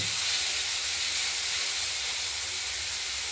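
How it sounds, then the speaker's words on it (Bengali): Potatoes and beans fry in a pan with oil, producing a steady, close, hissing sizzle that holds constant and loud throughout, with no voices. "আলু আর বিনস দিয়ে দেওয়া হলো ভাজা হোক একটু ভাজা ভাজা করে নেব"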